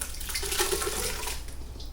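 A strawberry preserves mixture pours steadily into a pot with a broad, splashy wash that holds for about two seconds, close by, with no voices.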